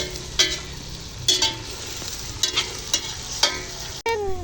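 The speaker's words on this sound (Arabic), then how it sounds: "سامعين التش طالع من جوا التش" Meat sizzling and frying in a pan for a home-cooked Friday lunch, with a steady hiss broken by several short, louder spatters and stirring scrapes, close by and with no talking.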